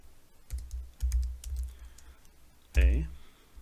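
Computer keyboard typing during a workshop on fire-rated wall partitions, a few short clusters of soft key clicks with pauses, fairly close and quiet, with a voice present.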